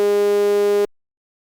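A steady buzzy tone from a looped sine wave with discontinuities, with a bright, harmonic-rich edge, holds for under a second, then cuts off abruptly into silence.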